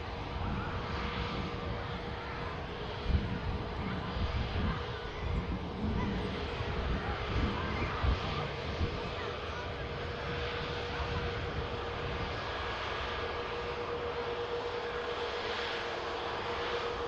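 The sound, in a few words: Scandinavian airliner taxiing and departing at Manchester Airport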